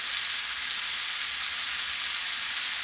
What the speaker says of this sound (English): We're going to go ahead and put in our potatoes